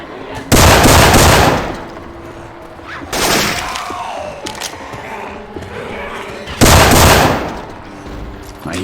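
Weapon fire in Left 4 Dead 2 using Syphon Filter gun effects: three loud, heavy automatic bursts of about a second each, separated by quieter gaps filled with faint in-game clatter and brief voices.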